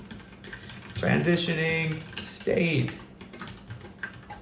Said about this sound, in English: typing debug.log